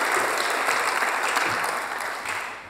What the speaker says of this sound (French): S'il vous plaît, avec un tonnerre d'applaudissements.